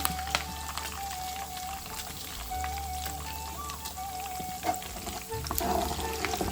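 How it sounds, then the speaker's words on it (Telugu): Moringa leaves frying in a pan until lightly browned, a soft continuous sizzle with scattered crackles and pops over a low steady hum, with no talking. "కొద్దిగా బ్రౌన్ కలర్ అయ్యేంత వరకు వేపుకోవాలండి."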